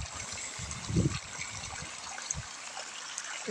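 Borewell water pours steadily from a farm pump outlet, probably into a farm pond, a continuous splashing gush with a brief louder surge, close and alone.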